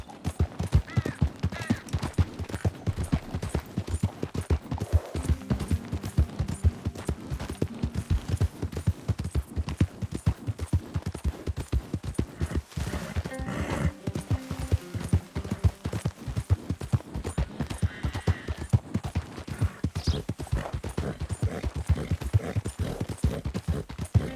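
Horse hooves clip-clop steadily and rhythmically in Red Dead Redemption 2, a continuous close trotting beat with no talk over it.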